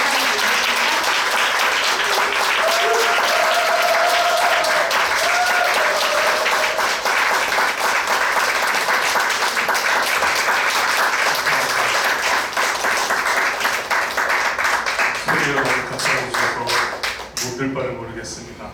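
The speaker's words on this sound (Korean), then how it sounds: "우리 권사님을 위해서 격려하면서 우리 박수로 맞이하겠습니다" A Korean church congregation at a Thursday worship service claps warmly to welcome a deaconess to the pulpit, steady dense applause lasting well over a dozen seconds before tapering off as a voice begins speaking.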